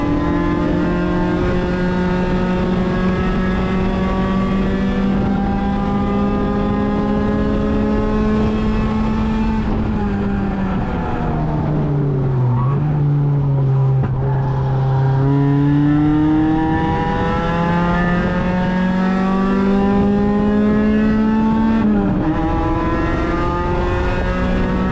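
Miata race car engine at full throttle, heard onboard during a ChampCar endurance race, loud and sustained with steady high revs, a dip and recovery as it lifts and reaccelerates through shifts, harmonics rising and falling throughout.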